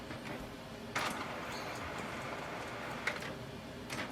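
A faint, steady mechanical whir from a Canon Pixma G5020 inkjet printer running an ink flush cycle, with a few soft clicks spaced a couple of seconds apart.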